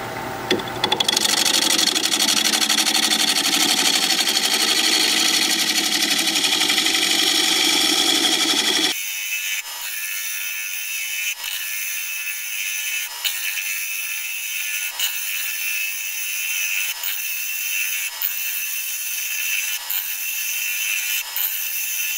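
A wood turning tool is sharpened on a grinder, loud continuous grinding at first, then a quieter spinning drone with regular rhythmic ticks and pulses repeating every second or so.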